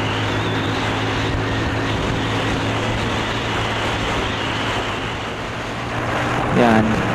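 A Bajaj CT150 motorcycle roars at full throttle in a constant, loud, wind-buffeted drone that stays steady throughout, with brief buffeting near the end.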